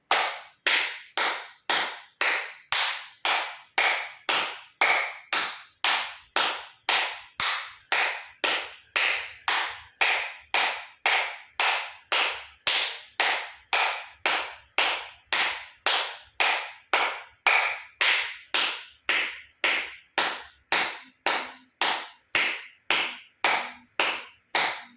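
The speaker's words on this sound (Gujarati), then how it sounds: "એક્યુપ્રેશર તાળી પૂરેપૂરી હથેળી આંગળીઓ ટચ થાય એ રીતે 50 વખત જોર જોરથી તાળી" Around fifty forceful acupressure claps made with full palms and fingers meeting, sharp and evenly spaced in a fast steady rhythm, close and loud with nothing else heard.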